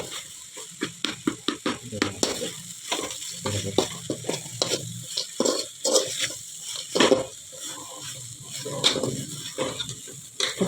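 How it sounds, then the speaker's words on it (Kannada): Puffed rice being stirred and tossed with crushed laddu in a bowl, a dry crunchy rustle in quick irregular bursts of scraping and rattling, close and fairly quiet. "ಇನ್ನು ಚೆಂದಾಗಿ ಮಿಕ್ಸ್ ಮಾಡಿಕೊಡುವ"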